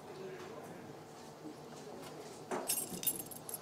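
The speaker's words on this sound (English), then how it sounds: "You want these keys right here." A bunch of keys jangles in the game Life is Strange, Episode 3 Chaos Theory, a bright metallic rattle rising in the last second after quiet background ambience, with a voice speaking nearby.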